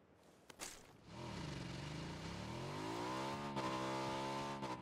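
Motorcycle engine in the video game PUBG, revving up and sustaining a loud droning whine with shifting pitch, steady and close, with no talking over it.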